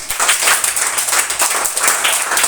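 A classroom of students claps together, a dense, continuous patter of applause held at an even level for a couple of seconds.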